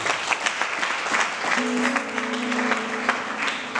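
A church congregation applauds together: dense, steady clapping fills the whole stretch, with a sustained tone joining partway through.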